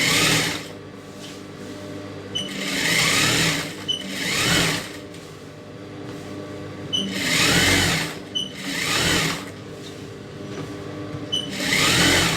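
A tailor's sewing machine stitches a silk skirt, its motor whirring in repeated rhythmic bursts that swell and ease over a steady hum, close and fairly loud.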